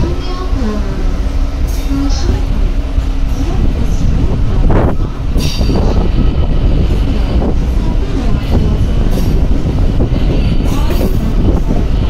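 A passenger train pulls into Kanniyakumari railway station, India's southernmost terminus, with a steady loud rumble of rolling carriages, wheel clatter and brief squeals throughout, and faint voices of people in the background.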